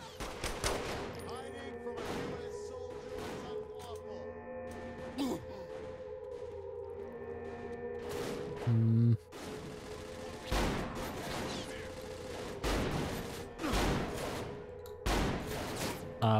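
Gunfire in the video game Saints Row: The Third Remastered, with repeated sharp shots in loose bursts over a steady background hum, plus a few heavier impacts.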